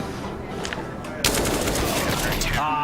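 Gunfire in CS:GO during a competitive match: a muffled stretch gives way to a sudden loud burst of rapid shots that continues to the end.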